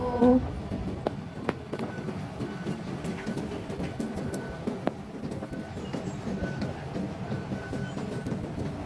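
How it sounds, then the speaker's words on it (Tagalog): A rumbling MRT train pulls into an interchange station with rattling, clattering wheels and occasional sharp clicks and squeals, heard from a platform against a steady background hum. "Ayan na guys yung train. Sasakay na tayo."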